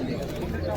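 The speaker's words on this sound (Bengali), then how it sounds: "প্রচুর পায়রা নেছে এই খাঁচার মধ্যে।" Pigeons in a cage at the Beldanga market, their steady low cooing running without a break beneath busy market noise and nearby talk.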